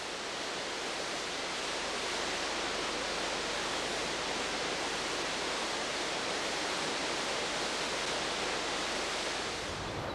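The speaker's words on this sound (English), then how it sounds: "sheer granite cliffs 1 mile high, from which waterfalls cascade" A continuous, dense roar of a waterfall cascading down sheer granite cliffs in Yosemite, steady and unbroken throughout, with no voices.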